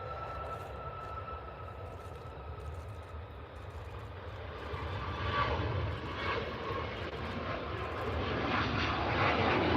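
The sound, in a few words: Hainan Airlines plane taxiing to the runway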